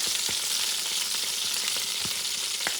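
A petite sirloin steak sizzles steadily in a hot pan with a little honey added, a constant bright frying hiss with a few soft taps and scrapes scattered through, close and with no talking.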